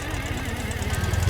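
A Ural motorcycle engine idles unevenly and close by with a lumpy, knocking chug for a brief moment, no voices over it.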